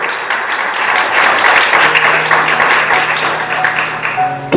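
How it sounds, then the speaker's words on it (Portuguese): A church congregation applauds during a sermon, a sustained wash of many hands clapping at full strength that eases slightly toward the end, with no talking over it. "Quem pegou, começa a aplaudir o Senhor Jesus"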